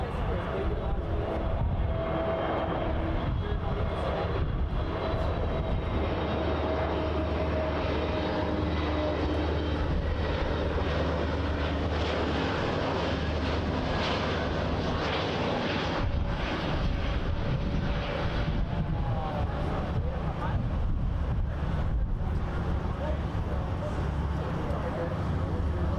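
Air Canada airliner arriving on runway 24L at Toronto Pearson, a loud sustained engine rumble and roar with rising whine, heavy low-end wind buffeting, close and continuous.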